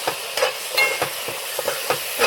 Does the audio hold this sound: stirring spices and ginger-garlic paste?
yes